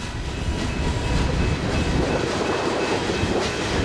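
Chicago and North Western freight train coal cars roll steadily past up close, a continuous loud rumble of wheels on rails with faint rhythmic clacking and a thin metallic whine.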